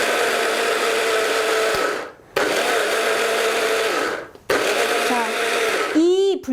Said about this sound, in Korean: 드레싱을 갈아보도록 하겠습니다. 아주 곱게 갈아주세요.